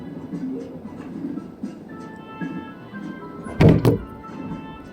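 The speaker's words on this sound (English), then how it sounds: "I just hit my knee against the table." A knee knocks hard against a table with one loud, brief thunk, set against quiet voices and electronic game music.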